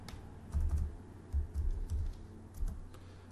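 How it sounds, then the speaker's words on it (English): Someone types on a computer keyboard while entering query criteria, a soft, quick patter of irregular keystrokes close by with no voice over it. "I'm going to open quotes, type company A"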